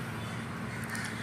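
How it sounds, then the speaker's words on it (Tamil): A crow perched in a golden shower tree gives a short caw outdoors, a single brief call heard over a steady, fairly loud background of ambient noise. "காகம்."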